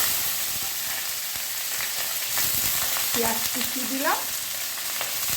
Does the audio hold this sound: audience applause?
no